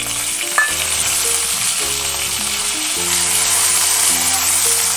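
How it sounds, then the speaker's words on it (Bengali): Chopped tomatoes frying in a pan with potatoes for a raw jackfruit kofta curry, a steady close sizzle with faint stirring scrapes throughout, no talking. "টমেটোটা একটু ভেজে নেব"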